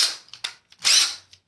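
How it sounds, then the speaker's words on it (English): A standard cordless drill gives a few short, sharp whirring bursts, the longest near the end, separated by brief silences and heard up close. "It's a really standard drill."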